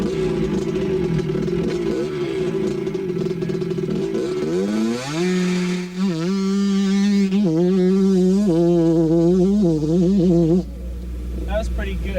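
A 1986 motocross bike idles with a rough, loud engine note, then the throttle opens and the engine revs up hard and holds high off the starting line before cutting back near the end.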